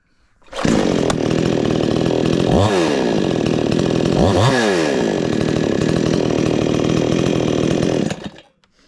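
A chainsaw engine roars at close range on a cold start, revving up twice in rising whines before settling and cutting off at the end.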